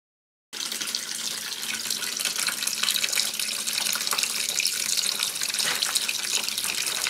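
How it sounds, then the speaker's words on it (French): Water rushes steadily from an opened radiator drain valve on a pressurized heating system, a loud, constant close-up gush that starts suddenly after a moment of silence. "Donc on peut voir que ça coule très bien, mais ça c'est grâce à la pression qu'il y a dans le réseau de chauffage."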